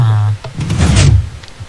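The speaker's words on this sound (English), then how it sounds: "This door is amazing." A door opens in the Minecraft video game with a short wooden clunk and shuffle right after a brief voice, close and fairly loud.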